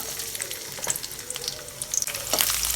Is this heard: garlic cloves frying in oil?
yes